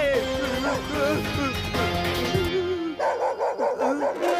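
A cartoon dog from the Gattu Battu animated series barks in a rapid run of loud, yappy, voiced barks, with animated character voices talking around them.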